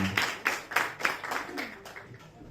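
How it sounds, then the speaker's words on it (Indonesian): A short burst of scattered hand clapping from a small group at a singing competition awards announcement, fading out over a couple of seconds. "Tepuk tangan dong"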